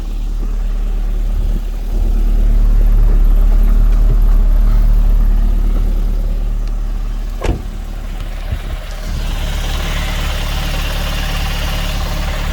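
A 2008 Honda Civic Si with a K-Tune open-stack intake and 3.5-inch K-Tune exhaust, its engine idling then rising into a sustained rev and settling back down, loud and close, with a sharp click midway.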